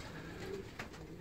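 A racing pigeon coos softly, the low throaty call barely rising above steady broadband background noise in a loft.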